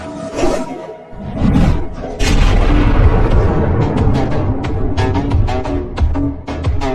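A loud, chaotic burst of booming blasts and crackling impacts, sustained at high volume for several seconds with sharp transient cracks throughout.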